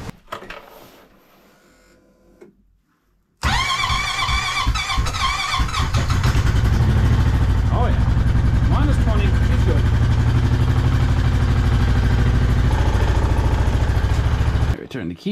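An ATV quad engine cranks on electric start after a near-silent stretch, catches abruptly and then runs loud and steady at a fast idle to the end, with a voice talking faintly at first.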